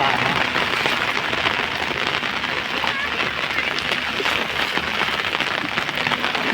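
Steady, dense rain pouring down on flooded farm fields and splashing on surfaces, a continuous hiss with no breaks from start to finish.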